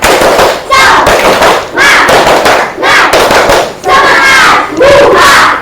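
Indonesian schoolchildren doing a group clapping spirit cheer, loud rhythmic bursts of unison clapping and shouting repeated about six times with short gaps between.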